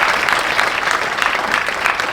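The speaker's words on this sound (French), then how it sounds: "on peut l'applaudir s'il vous plaît." Dense audience applause at a maritime academies colloquium, a continuous even patter of many hands clapping, close and loud throughout, with no talk over it.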